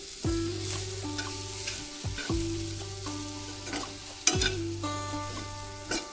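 Spicy green chilli masala frying and being stirred in a pan, with a steady close sizzle and repeated scraping strokes. Soft tonal background music plays underneath.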